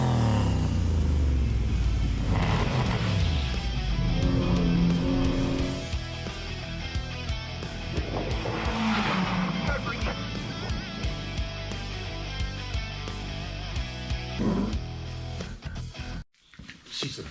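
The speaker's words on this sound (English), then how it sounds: "today we're going to show you the custom exhaust we built, how it sounds" A Hyundai Getz track car with a custom 2-inch exhaust runs close by, its engine droning and rising through revs in a long loud pass before cutting off abruptly near the end.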